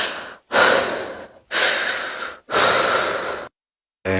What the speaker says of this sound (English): Breathe into that.